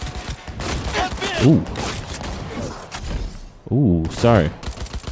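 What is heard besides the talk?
gunfire in video game Cyberpunk 2077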